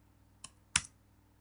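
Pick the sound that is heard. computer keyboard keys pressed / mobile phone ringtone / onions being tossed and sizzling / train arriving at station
computer keyboard keys pressed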